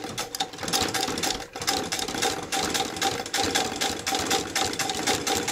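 A Singer 31k15 industrial sewing machine stitches with its wheel turned by hand, giving a continuous rapid mechanical clatter with brief dips in pace, close and steady without talk.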